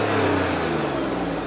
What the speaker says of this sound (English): So give it a little rev for the folks here.